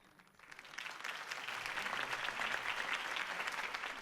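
Crowd applause in Batman: The Telltale Series swells from quiet to a steady, sustained roar of clapping, moderately distant, with no speech over it.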